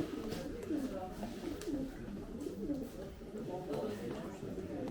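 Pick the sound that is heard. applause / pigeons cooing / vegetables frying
pigeons cooing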